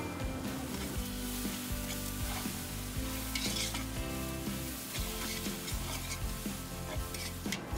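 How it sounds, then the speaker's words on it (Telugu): Curry leaves are stirred into a tomato mixture sizzling in a pan, a dense steady frying hiss with scraping stirs running throughout, loud and close, no talking. "ఇప్పుడు ఒక రెమ్మంతా కరివేపాకు వేసుకోవాలి. ఒకసారి మిక్స్ చేసుకుందాము."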